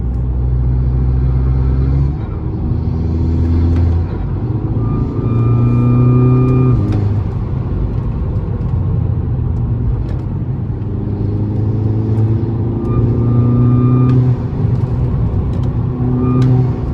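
VW Golf Mk6 GTI driven and accelerating, loud close engine revving up through the gears in rising sweeps with brief drops at each shift, sustained for the whole stretch.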